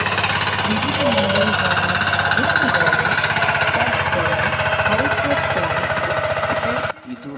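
A lightweight multipurpose power intercultivator tiller engine runs steadily and loudly with a fast, rough, pulsing throb at a farm equipment fair, voices audible underneath, cutting off abruptly near the end.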